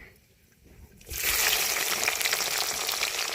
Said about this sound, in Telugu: నూనె బాగా వేడెక్కింది ఉల్లిపాయలు వేసేసుకుందాము